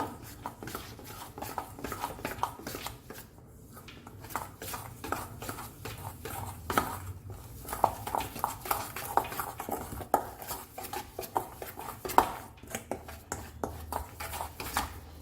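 A spoon stirs tandoori marinade with ginger garlic paste in a bowl, making a continuous run of close clinks and scrapes in an irregular rhythm for the whole stretch.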